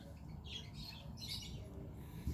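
Pet birds squawk intermittently in the background, high-pitched calls rising in short bursts over a steady low rumble; no voices.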